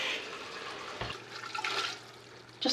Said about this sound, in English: Just a bit of water.